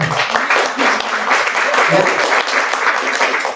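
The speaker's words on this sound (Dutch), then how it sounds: "En dat dient een applaus te hebben." Sustained applause from an audience at a Pink October breast cancer awareness event, a dense steady clatter of many hands at close range with a few brief voices mixed in.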